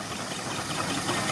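A 4-inch scale miniature steam traction engine running at a steam rally, giving a steady, dense mechanical chuffing and rumble that stays constant throughout, close and fairly loud, with no voices.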